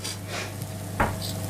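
Spoon stirring ground spices in a curry pan for chicken spinach curry, soft scraping swishes over a steady low hum, with one brief sharp clink of utensil against the pan.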